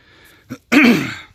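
A short sniff followed by a single harsh, throaty cough or throat-clearing burst, close and fairly loud.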